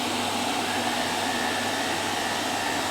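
A Sage centrifugal juicer and a Novis slow juicer run together indoors, giving a loud, steady whirring motor drone that holds unbroken throughout with no talk over it.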